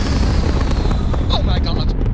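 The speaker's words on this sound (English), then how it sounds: "Takeoff looks good." Spaceship takeoff in Starfield, a loud, dense roaring rumble of engines sustained throughout, with a few short tonal beeps sounding near the end.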